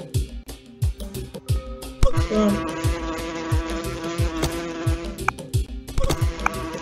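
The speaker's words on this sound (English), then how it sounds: "now all I can hear is bees." Game buzzing from the tower-defense title Deadly Defenders, a busy insect-like drone with repeated sharp thumps and effects layered over it, loud and continuous throughout.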